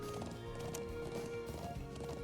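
Hooves of a ridden horse in the video game Trails of Cold Steel, a steady, rhythmic clip-clop at a trot that is close and clear, with faint game music underneath.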